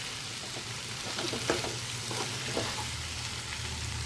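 Cauliflower and potato sautéing in a pan, a steady close sizzle under a low constant hum, with scattered soft stirring scrapes in the middle, no one speaking.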